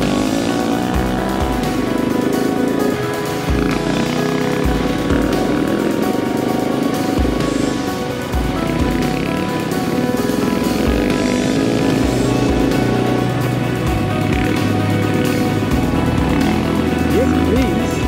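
Adventure motorcycles riding through Deua National Park, a loud steady engine drone with wind roar running throughout, close and continuous, with a brief dip in level partway.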